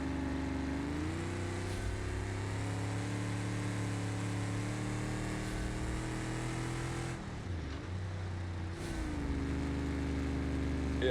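Race car engine in BeamNG.drive during a dirt derby qualifying lap, holding a steady droning hum with a brief dip and recovery as it shifts, then revving on again.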